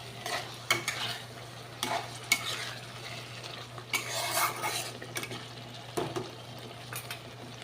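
A stingray fish curry being stirred as it fries in a pan: repeated scraping strokes of a utensil against the pan, with a steady sizzle underneath and occasional clinks of metal, close and fairly quiet.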